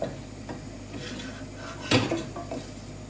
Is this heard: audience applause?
no